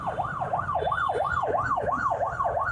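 An ambulance siren wails steadily in a fast rising-and-falling yelp, loud and close, repeating about three times a second with no speech.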